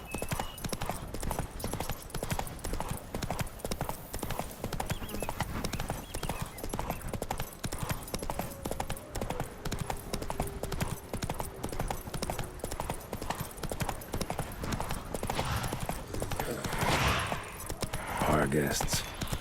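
A horse's hooves clip-clop in a steady rhythm while ridden in The Witcher 3: Blood and Wine, mixed with jingling tack and ambient game sounds, with a short louder burst toward the end.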